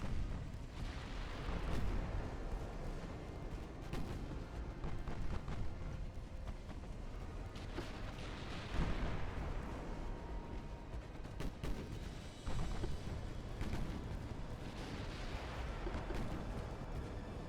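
Naval guns in Ultimate Admiral Dreadnoughts, a warship battle game set in the Black Sea, fire in deep, rumbling booms that recur every few seconds over a constant low roar of battle.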